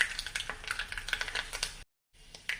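Shallots crackle and sizzle in hot coconut oil with mustard seeds, a busy close spitting and popping with a brief stir, then a short silent gap before the sizzle returns.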